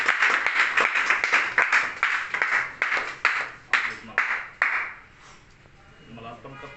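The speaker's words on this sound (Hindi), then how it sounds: "ताली बजाए आप सब मैडम के लिए।" Audience at a sub-divisional district meeting clapping for a woman, a few seconds of irregular hand claps that fade out, with voices underneath and continuing after.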